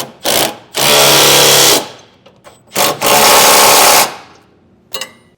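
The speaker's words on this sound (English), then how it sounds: "we'll tighten down our outside side plates. So once again, a 3/4 inch socket" A power tool with a 3/4 inch socket drives bolts on the side plates of a B&W Companion sliding 5th wheel hitch on a Ford pickup: two long, loud whirring runs close by, with short blips before, between and after.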